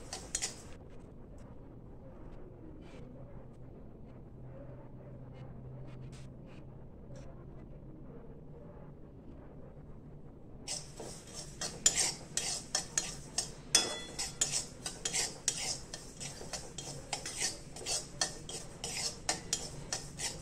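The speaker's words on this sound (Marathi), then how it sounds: "एकदम बारीक गॅसवरती आपल्याला तीळ खसखस भाजून घ्यायचे." Sesame and poppy seeds roasting over a very low gas flame, a quiet scrape and stir that turns into brisk, repeated metal clinks and rustles in the second half, with no voices.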